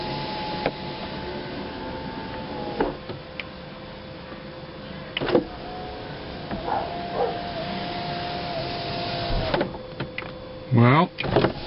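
A BMW power window regulator driving the glass, with intermittent motor whirs and clunks at the end of travel, closing with a louder strained buzz near the finish, over a quiet cabin background.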